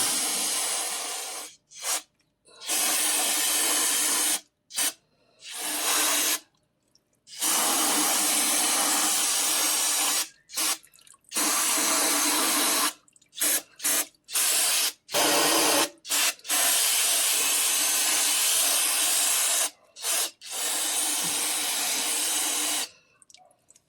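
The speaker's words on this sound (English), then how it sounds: "I'm gonna spray a little more" An aerosol can of cleaner sprays onto a vehicle's rear differential in long, loud, hissing bursts separated by short pauses, close by and without any talking.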